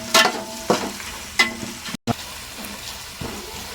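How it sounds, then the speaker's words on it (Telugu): Chopped onions and green chillies sizzle in a pan for a vegetable pulao, with a few sharp scraping stirs from a spoon over a steady, close frying hiss. "కట్ చేసి పెట్టుకున్న ఆనియన్స్, పచ్చిమిర్చి, ఇప్పుడు బాగా కలుపుకోవాలి"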